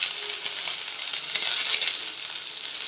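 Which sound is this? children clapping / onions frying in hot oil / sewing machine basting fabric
onions frying in hot oil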